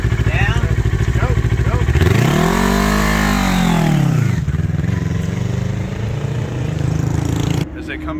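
A motorcycle launching from a stand and riding away, engine revving hard with a rising and falling pitch sweep as it pulls off, loud and close before settling into a steady drone; a voice talks over it.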